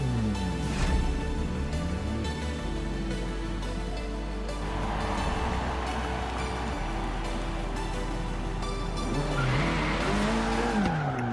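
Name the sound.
Abarth 695 Biposto car racing, from video game Forza Horizon 3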